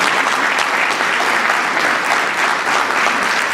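Steady, dense applause from an indoor audience at a book presentation in Tuxtla, loud and continuous for the whole stretch with no voices over it.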